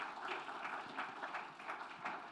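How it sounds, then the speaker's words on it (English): Faint audience applause at a book launch as a guest is welcomed on stage, a soft continuous patter of many hands with a slightly distant, roomy quality. "Please give him a huge round of applause,"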